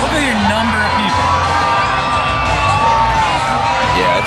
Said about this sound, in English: Look at the kids all screaming and yelling, you know?